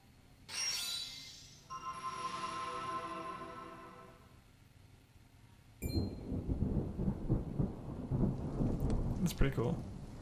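Rain and thunder in the strategy game Triangle Strategy begin with a rolling rumble that swells and fades. A dense, loud downpour with crackling spatter then takes over.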